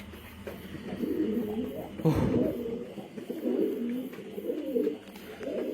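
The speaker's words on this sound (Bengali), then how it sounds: "দেখেন কত ফ্রেশ কবুতর কত সুন্দর কবুতর" Pigeons coo in a loft, several soft, throaty calls rising and falling close by, with a few overlapping birds.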